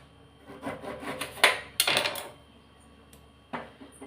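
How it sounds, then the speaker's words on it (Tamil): A lemon is cut in half with a knife on a cutting board, leaving two short scraping, rasping strokes with a few lighter taps around them, close up, with no talk. "இந்த எலுமிச்சம்பழத்தை நம்ம 2ஆக கட் பண்ணிப்போம்."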